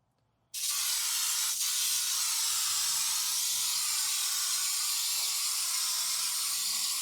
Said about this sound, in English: Let's get this sprayed.